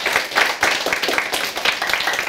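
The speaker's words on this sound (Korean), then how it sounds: "우리 선생님들 위해서 박수 한번 칠까?" Youth camp participants clap for their teachers, a lively burst of group clapping with uneven rhythmic surges, fairly close and steady throughout the short stretch.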